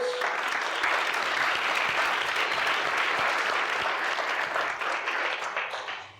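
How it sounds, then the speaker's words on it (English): A conference audience at an evening business event gives steady, full applause, a dense crowd clapping at even strength that fades out over the final second. "if we can all give them a massive round of applause"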